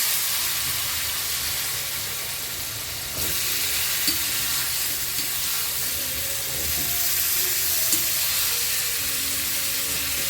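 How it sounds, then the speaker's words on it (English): Potatoes tumbled into a spiced masala in a pan for a Palakkad-style dish, then stirred, with a steady broad sizzle and hiss throughout and a few soft scraping clicks of the spoon, close and fairly loud, no talking. "Mix it nicely and then add the potatoes."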